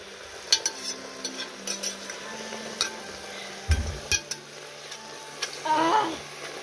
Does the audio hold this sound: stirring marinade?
yes